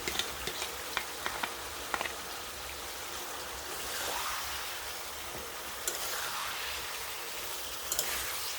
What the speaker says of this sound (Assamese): মছলাখিনি এড কৰাৰ পিছত মই মাংসখিনি অলপ লাৰি দিছোঁ